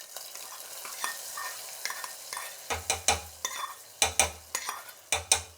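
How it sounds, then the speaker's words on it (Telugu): Hot tempering is poured into tomato dal with the stove off: a sharp burst of sizzling sputter, followed by repeated scraping and clinking of a spoon stirring the pot in a loose rhythm. "ఇప్పుడు పోపు దీంతో వేసేద్దాము ఈ పప్పులోకి."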